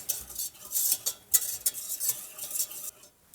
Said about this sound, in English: we can stir in